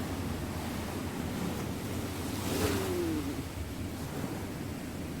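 Ocean surf washing onto Saint-Malo beach as the tide rises, a steady close roar of breaking waves with wind rushing across the microphone and one swell building louder midway, no voices.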